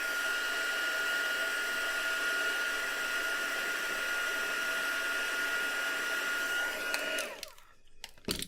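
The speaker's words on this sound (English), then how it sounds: "So let's just give it a blast and dry it off." A hair-dryer-style heat blower dries watercolour ink on a stamped card, a loud, steady close-up whoosh with a constant tone that cuts off near the end.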